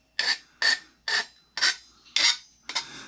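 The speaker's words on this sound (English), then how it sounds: "You can file it off lightly." A metal hand file rasping off a metal edge, six evenly spaced scraping strokes up close with silence between them.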